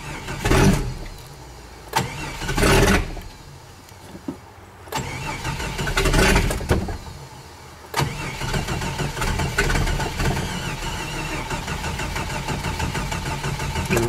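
A worn Stihl MS660 chainsaw engine sputters through a few short bursts and cutouts, then catches and keeps running at a rough, loud, close idle.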